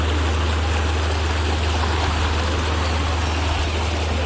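River water rushing steadily over slippery stones, a loud, continuous close-up wash with no voices.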